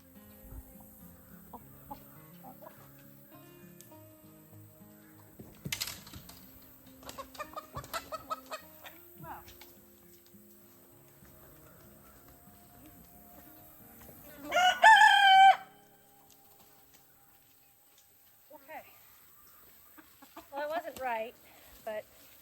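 Chicken clucking and a rooster crowing on a farm, faint scattered clucks early on, then one loud close crow midway and more clucking near the end, with quiet speech in places.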